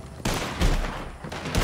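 Heavy cannon blasts in Red Dead Online during a Fort Mercer defence wave: about four booming shots spaced irregularly over a rumbling battle background, with no talk.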